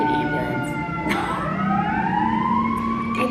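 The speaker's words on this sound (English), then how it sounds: "why when I'm trying to film a video, there's like a freaking ambulance" An ambulance siren passing outside, a wailing tone sweeping up and down that rises and falls in pitch as it goes by, steady and moderately loud with traffic rumble underneath.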